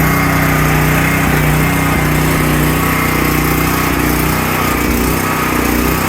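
A DuroMax 13000EH generator runs just after starting, still warming up and trying to idle: a loud, close, continuous engine roar with a slightly uneven, wavering tone, no speech.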